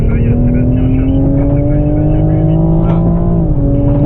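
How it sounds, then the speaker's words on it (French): A Toyota GR Supra at full throttle on a race circuit, its engine note climbing steadily in a loud, continuous drone before a brief dip as the revs drop near the end. "On ouvre pour aller la gaz à fond."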